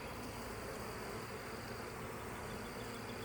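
A steady, faint hum of a small colony of honeybees in a sparsely populated hive opened for inspection, continuous and even with no talk over it.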